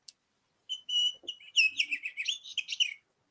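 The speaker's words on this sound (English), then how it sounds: "I don't know if you could hear the tweeting, but as they play with it, it makes a noise." A bird-shaped cat toy gives off a run of high electronic chirps and tweets while being batted around, close and fairly clear against near silence.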